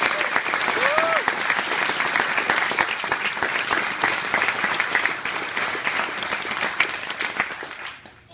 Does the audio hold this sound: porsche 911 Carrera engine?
no